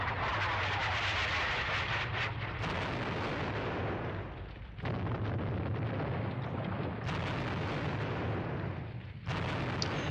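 Artillery shells exploding in trenches during a Squad Battles: Red Victory battle at Ponyri, a series of heavy, loud booming blasts with rumbling decays, some close and overlapping, heard alone without talk.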